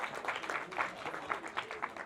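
An audience applauding a volunteer coming on stage at a mentalist show, a thin, fairly quiet patter of clapping in irregular bursts, somewhat distant in the room.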